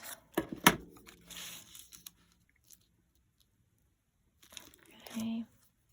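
Paper is cut and crinkled for a junk journal envelope pocket, a few close snips and rustles in the opening seconds, then quiet handling and a short murmur of speech.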